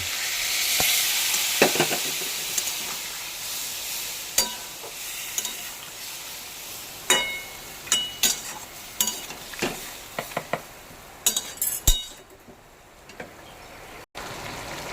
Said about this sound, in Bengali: ফুটতে শুরু করেছে তরকারিটা।